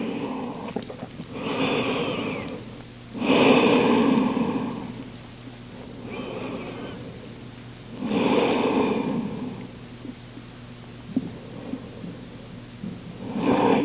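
Slow, deep breathing held in a yoga pose, with about three long inhale and exhale swells of airy, close breath sound separated by quieter pauses.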